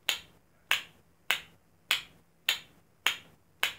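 Spoons struck against a knee in a steady downbeat, six sharp clacking hits at an even pace, each ringing briefly, close and alone.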